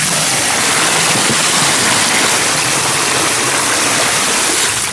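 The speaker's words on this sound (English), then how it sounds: "dump some water out of your pool." Water being dumped out of a backyard swimming pool, a loud close rushing splash pouring continuously for several seconds and cutting off at the end, with no voices.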